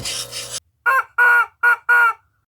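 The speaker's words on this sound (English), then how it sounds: "Chickens." A burst of noisy sound gives way to four loud, close clucking calls in quick succession, separated by brief silences.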